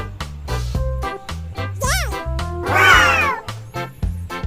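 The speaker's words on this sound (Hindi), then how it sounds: "कैट को हिंदी में बिल्ली कहते हैं।" A cat meowing, with a couple of loud, clear meows and one long drawn-out yowl over a rhythmic music backing.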